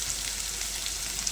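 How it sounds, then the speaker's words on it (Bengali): Spice paste for chicken curry fries in a pan, giving a steady, even hiss of sizzling oil that carries on without a break. "সব কিছু আবারও একসঙ্গে খুব ভালো করে আমি ভাজা ভাজা করে নেব"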